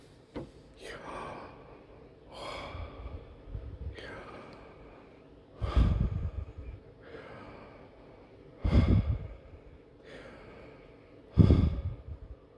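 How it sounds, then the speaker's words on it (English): A voice breathes the name Yahweh as airy, drawn-out exhales and inhales, several breathy bursts at intervals, close to the mic with no ordinary speech. "So Yahweh, or you could breathe it, the breath of life."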